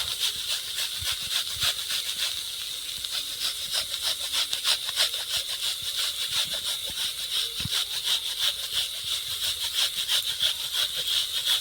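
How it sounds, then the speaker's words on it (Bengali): Jaggery is grated for a coconut filling, with a fast, even run of rasping scrapes repeating steadily for several seconds, close and moderately loud. "গুড়টা এখন গ্রেট করে দিয়ে দেবো"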